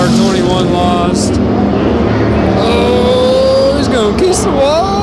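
Race cars roar around a dirt track during a 2024 season event, engines whining and rising in pitch as they pass loudly nearby, with a crowd-level din and a voice talking over the racing.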